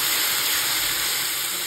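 Water poured into a hot pan of fried onion and tomato for a spicy Bengali crab curry, a loud continuous steaming hiss and sizzle that holds steady throughout, close by and with no talk over it.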